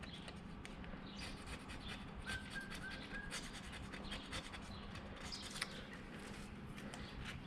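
A razor blade scrapes old gasket material off a machined surface on an FJ45 brake part, quiet, repeated rasping strokes close by with no talk.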